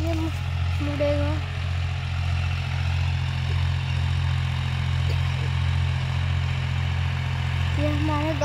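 A Mahindra 265 DI tractor's diesel engine idles and runs steadily with a deep, continuous low rumble, close and loud throughout, with faint tonal squeaks now and then.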